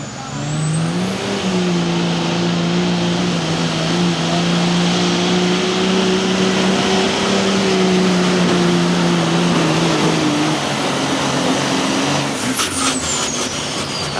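A diesel 4x4 street truck roars loudly and steadily at a drag strip starting line, building boost before launching hard, with the engine drone sustained throughout and a commentator's voice mixed in.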